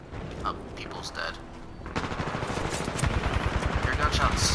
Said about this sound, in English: Your gunshots.